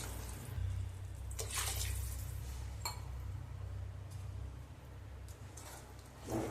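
Water is poured into a pot of rice for prawn biryani, a steady, soft rushing pour with a few faint clinks near the end.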